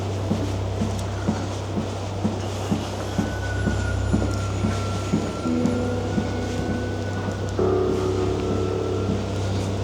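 A train pulls into a deep underground station in Japan, its wheels clacking at a regular pace over a steady low rumble, with a thin squeal rising as it slows.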